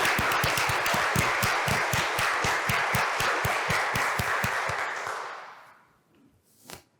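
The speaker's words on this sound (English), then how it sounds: "Let's give them all a round of applause." Audience applause for families at a school pinning ceremony, dense and steady clapping for about five seconds with distinct individual claps, then fading out to near silence before a brief faint noise at the end.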